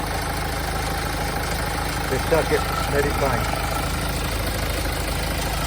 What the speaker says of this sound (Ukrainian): Двигун працює рівненько, гарно,